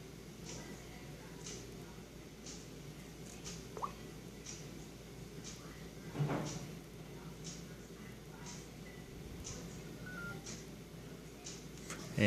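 Keypad tones of a Samsung Galaxy S4 phone dialing a number, a steady run of short, evenly spaced beeps about once per second over a quiet room hum, with a faint soft knock partway through.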